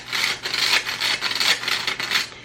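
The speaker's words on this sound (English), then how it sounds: "I'm gonna go on and start by actually sifting in my dry" Dry baking ingredients being sifted through a sieve in a farm kitchen, a close, continuous scratchy rasping shake in rhythmic pulses of roughly two per second, with no speech.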